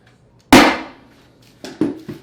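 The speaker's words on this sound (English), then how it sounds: "Just put a couple staples into it." A hammer stapler drives staples through plastic sheeting onto a bathroom subfloor: one loud sharp smack, then after a pause two quicker, lighter thwacks in a row, close by.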